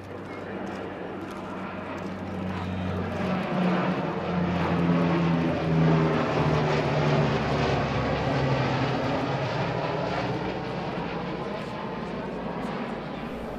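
A big Antonov AN-12 propeller aircraft flies past at an air show, with a steady, loud engine drone that swells toward the middle and then eases off, its pitch sweeping slowly as it passes.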